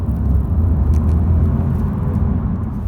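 Honda Civic sedan with a 1.0-litre VTEC turbo engine of 124 horsepower, pulling in second gear: a steady, close, low engine rumble and thrum that holds even throughout, with no talking.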